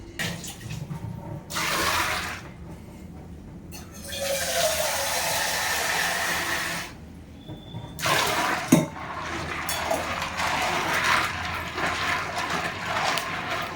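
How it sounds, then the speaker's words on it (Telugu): Shikakai pods being washed in water, with bursts of running, splashing water separated by quieter gaps, close and fairly loud. "ఇప్పుడు మనం బాగా దీనికి పట్టిన దుమ్మంతా శుభ్రంగా కడుక్కొని శుభ్రపరుచుకుంటాము."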